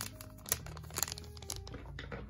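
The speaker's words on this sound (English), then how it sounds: "I ripped it the wrong way." Plastic packaging of a Mattel Cinderella doll playset being torn and crinkled up close, a continuous rustling with sharp crackles and rips, fairly quiet.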